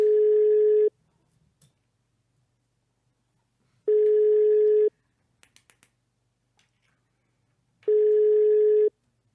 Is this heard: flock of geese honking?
no